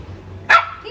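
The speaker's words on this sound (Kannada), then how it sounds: "ಅದು ಕಿವಿ ಹತ್ರನೇ ಬೊಗಳ್ತಿದ್ಯಾ?" A single close, loud bark from a dog rings out sharply over a quiet low hum, one short yelp-like burst.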